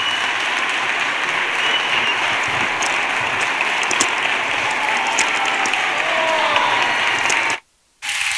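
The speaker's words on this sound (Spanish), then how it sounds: "se merece que lo recibamos con un fuerte aplauso" Sustained applause from a large crowd at a carnival proclamation in Bornos, dense clapping that holds steady before cutting off abruptly near the end.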